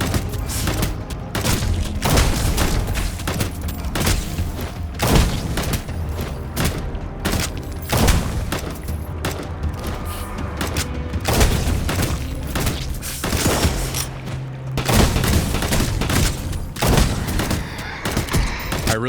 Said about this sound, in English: I really do love these incendiary rounds. There's nothing more fun than just shooting a bunch of those real quick.